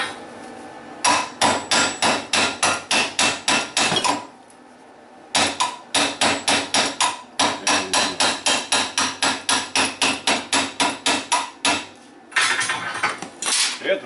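A hammer chips tough slag off a 6011 stick weld made with an AHP Alpha 160ST welder, striking in quick, sharp metallic bursts of evenly spaced blows with brief pauses between runs. The blows are close and loud, with no talking.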